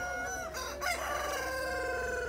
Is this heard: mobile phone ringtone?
no